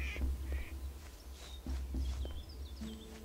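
Ducks quack near an old windmill in the video game Dwarrows, short nasal calls scattered among light footsteps and soft game chimes, moderately quiet with no talking.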